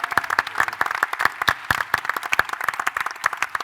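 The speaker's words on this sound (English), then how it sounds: "big round of applause for our panelists" A round of audience applause for a panel at the Disney Infinity Toy Box Summit 2015, with distinct sharp claps at an irregular, quick pace, fairly close and moderately loud, no voices.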